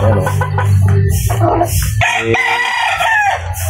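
A five-month-old Kanawayon gamecock, a young straight-combed rooster, crows loudly and close, its call breaking into a second strained phrase, with clucking fowl around it.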